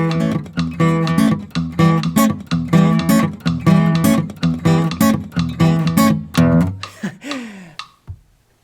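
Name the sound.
guitar playing a riff at 125 BPM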